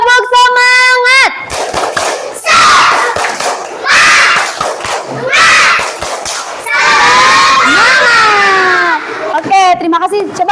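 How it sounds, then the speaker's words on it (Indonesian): A class of children doing a rhythmic spirit clap chant in a classroom, loud bursts of group clapping alternating with shouted chanting, a teacher's voice between sections. "Tepuk semangat."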